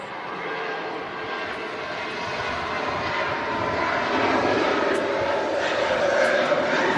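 Ryanair jet airliner taking off at Manchester Airport in the evening, a distant engine roar that swells gradually over the seconds, heard from afar with faint background sounds.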